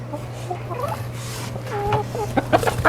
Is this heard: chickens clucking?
yes